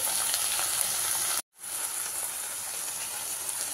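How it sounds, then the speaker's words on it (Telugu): Coriander leaves frying in hot oil give a steady, dense close-up sizzle that cuts out abruptly for a moment, then resumes at the same level. "కొత్తిమీర వేసి ఇట్లా మొత్తం వేయించుకోవాలి."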